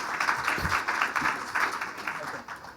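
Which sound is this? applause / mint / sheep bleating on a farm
applause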